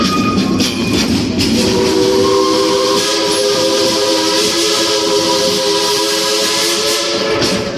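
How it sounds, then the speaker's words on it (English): A steam locomotive whistle on the Frisco Silver Dollar line sounds loud and sustained, with steady steam hiss running through the full stretch, given as a salute. "That whistle is just for you."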